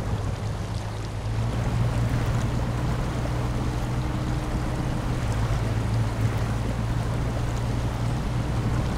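Heavy truck fording a large river in SnowRunner with raised suspension, a continuous low engine drone mixed with rushing, sloshing water, loud and steady throughout.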